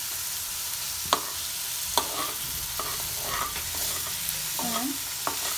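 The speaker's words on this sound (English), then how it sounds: "You need to mix it very properly" Mushrooms with masala stirred in a sizzling frying pan, a steady hiss of frying under the repeated scrape and clink of a spoon against the pan.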